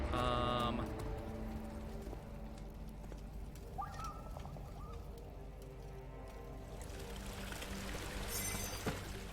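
Water pours from a bucket in the horror game Amnesia: The Dark Descent, a steady wash of splashing under a low ambient game drone, with a brief sharper splash near the end.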